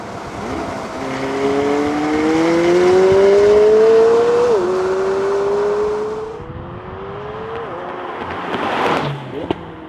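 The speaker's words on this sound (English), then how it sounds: "You want to hear that engine in all its glory." A McLaren 720S supercar engine revs and accelerates loudly through rising gear pulls with shifts, then eases off before a short sharp blip near the end.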